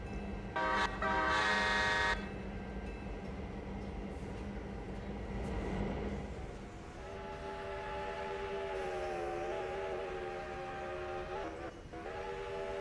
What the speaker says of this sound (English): at least I know you're whistling in that locomotive